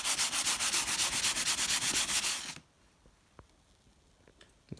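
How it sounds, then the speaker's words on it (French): Steady rhythmic sanding strokes rub across dyed leather taxi seat upholstery, loud and close for a couple of seconds before stopping, leaving faint handling clicks and quiet room noise. "Donc on vient poncer pour créer une approche."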